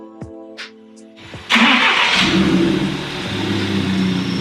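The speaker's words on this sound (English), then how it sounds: "The car's now remotely started." A car engine cranks and catches after a remote start with nobody inside, preceded by a few faint clicks and whirs, then settles into a steady close idle.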